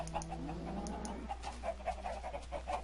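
Chickens cluck in the video game Minecraft, close by and outside, giving a steady run of short, repeated clucks over a low constant hum.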